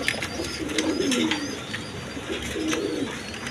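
Pigeons at a pigeon farm give soft, throaty coos, two or three rolling calls close by, with faint chirps and light background noise around them.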